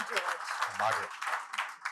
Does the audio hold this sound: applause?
yes